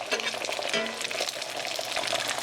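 Onions sizzle and crackle in a hot pan with a steady frying hiss and small pops, close and continuous without a break.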